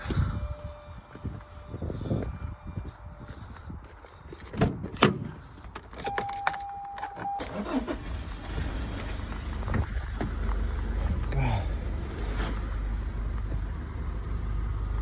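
A 2019-onward sixth-generation Toyota Hiace van gets a new AGM stop-start battery. Keys jangle, a brief electronic tone sounds, then the engine turns over and settles into a steady low idle rumble, with no voices.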